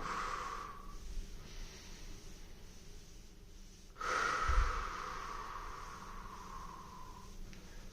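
Slow, steady breathing during a calming trauma-healing exercise: soft, airy breaths drawn in and let out at an unhurried pace, close and quiet, with one fuller, louder breath midway and no talking.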